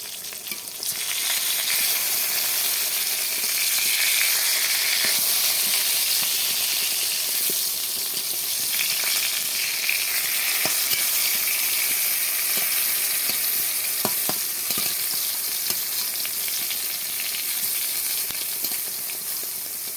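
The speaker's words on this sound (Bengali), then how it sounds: "বেগুন ভাজি করা হয়ে গেছে" Eggplant slices frying in a pan with a loud, dense, continuous sizzle and hiss that holds steady throughout, with a few scattered sharp pops and spatters, close up and without talk.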